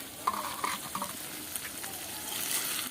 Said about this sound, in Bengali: নেড়ে দেব।